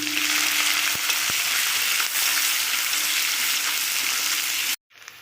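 Chopped onions, two large ones, frying in hot oil over a tempering of cumin, dried chillies and bay leaf; a steady loud sizzle runs with a couple of sharp clicks and cuts off abruptly near the end.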